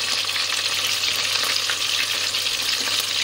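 Food fries steadily in a pan holding about 2 cm of oil, a constant dense crackling hiss that stays loud and even throughout with no talking.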